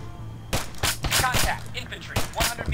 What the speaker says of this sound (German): da schießen die gleich los.